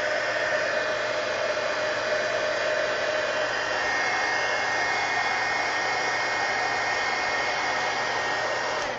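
A handheld dryer blows steadily and close on freshly glued magazine spines, a continuous loud whooshing hum that stays even from start to finish.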